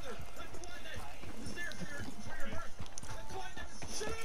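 Hooves of a horse in Red Dead Online patter in a quick, steady rhythm beneath speech and background game sound.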